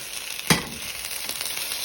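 Food sizzles and crisps in a hot pan on a high-medium heat, a continuous crackling hiss with a sharp clack near the start. Faint stirring scrapes follow, close up and with no talking.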